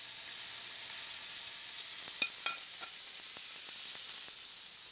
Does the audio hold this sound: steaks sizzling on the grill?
yes